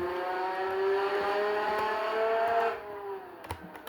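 Car engine in the Roblox game Fix It Up holds a steady, loud high-revving drone with rising harmonic whine, cutting back near the end to quieter sputters and brief revs.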